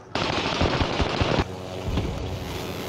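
Automatic gunfire in the online shooter Call of Duty Warzone: a loud, continuous burst of rapid shots for over a second, then a pause and further scattered shots continuing at a slightly lower level amid game noise.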